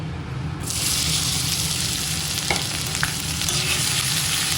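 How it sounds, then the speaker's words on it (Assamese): Spices frying in mustard oil in a pan while being stirred, a loud steady sizzle that stays close, with a few sharp scrapes of the spoon against the pan. "আৰু এইফালে মছলা ভাজি আছোঁ"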